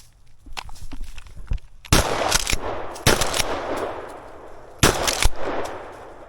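Three loud shotgun blasts ring out outdoors during a late-winter squirrel hunt, spaced a second or more apart, with leaves rustling and footsteps crunching between them.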